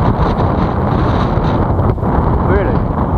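Heavy wind buffets the microphone in a constant loud roar, with a faint voice partly buried beneath it.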